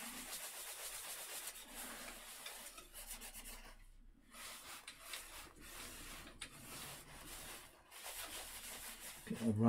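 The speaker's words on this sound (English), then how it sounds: "Bit of rubbing around the outside edge." Microcrystalline wax is rubbed by hand around the outside edge of a plate, making a close, steady rasping friction with brief pauses between strokes.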